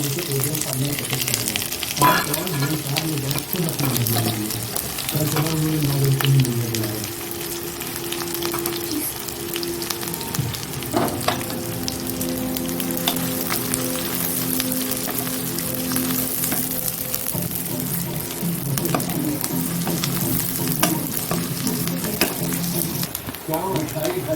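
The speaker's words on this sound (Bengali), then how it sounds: "তেলটা গরম হয়ে যাচ্ছে এবার পেঁয়াজটাও দিয়ে দিচ্ছি পেঁয়াজটা" Onions frying in hot mustard oil, a continuous loud sizzle with crackling and occasional stirring, close up, with a voice talking at times underneath.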